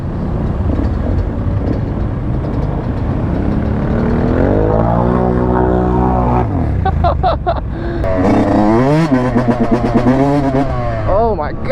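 Side-by-side off-road vehicles roar and rev loudly through deep mud at a mud fest, engines rising and falling in pitch with repeated throttle surges, up close and dominant, with voices mixed in.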